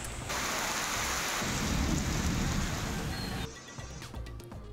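Steady, dense downpour roars without a break, with a low rumble of thunder building underneath before the rain thins slightly near the end.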